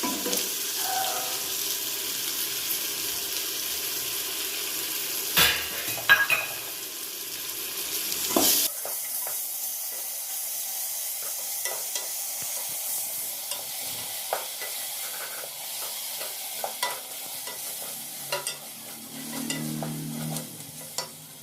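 Ginger garlic paste, made from ground ginger and garlic, fries and sizzles in a pan for a mushroom biryani, with repeated scraping stirs and a few sharp knocks of the spoon against the pan, no voices.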